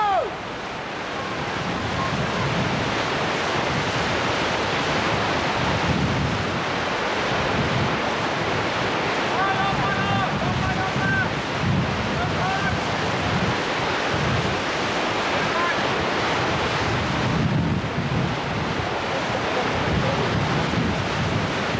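Strong wind blowing outdoors beside a river at a canoe slalom course, a constant loud roar of buffeting on the microphone that lasts the whole time, with no clear speech.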